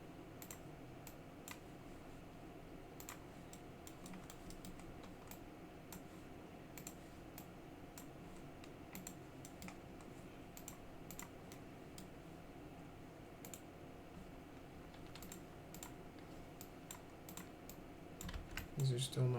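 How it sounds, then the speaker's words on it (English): Fast, light keyboard typing at a computer, a steady run of soft clicks for about twenty seconds, faint and close, with a few louder taps toward the end. "Hit 1 on the keyboard"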